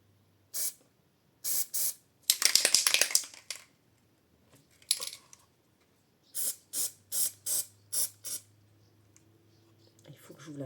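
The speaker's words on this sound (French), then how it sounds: "Je pense que je vais la coller à la bombe." An aerosol can of spray adhesive sprayed onto a fairy village model in a series of short hissing bursts, several quick puffs and one longer spray, close and sharp, with brief quiet gaps and a voice speaking between them.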